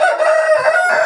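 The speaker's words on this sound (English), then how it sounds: "I want these cocks to mate with these hens" A rooster crows close and loud in one sustained call on a chicken farm with hens nearby.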